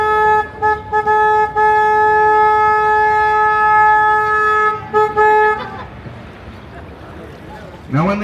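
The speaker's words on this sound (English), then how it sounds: "Now I'm going to honk the horn right now." San Antonio river tour boat horn sounding loudly at close range in several short toots, then one long sustained blast, followed by quieter background sound and a brief voice at the end.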